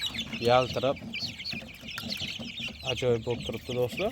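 Andijon black chicks cluck and cheep close by in a farm setting, short bursts of fowl calls rising and falling under someone talking over them.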